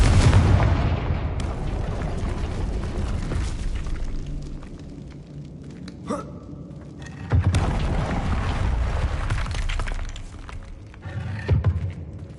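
Confringo blasting spells in Hogwarts Legacy explode repeatedly, sending heavy booms and rolling rumbles through a loud, busy game soundscape, with a couple of sharper bursts partway through.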